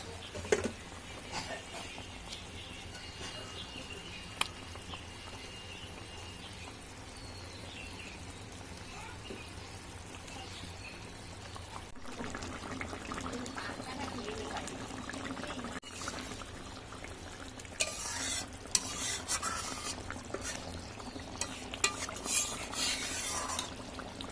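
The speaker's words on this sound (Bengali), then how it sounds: "ঝোলটা ভালো মতন ফুটে গিয়েছে। এবার আমি দিয়ে দেবো এর মধ্যে মাছ।" Curry broth for rohu with potato and pointed gourd simmers in a pot, and pieces of fish go in. There is a long stretch of soft bubbling and watery pouring that grows busier and louder toward the end, with occasional light clinks.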